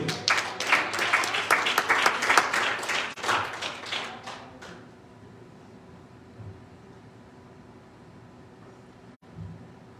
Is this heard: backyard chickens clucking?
no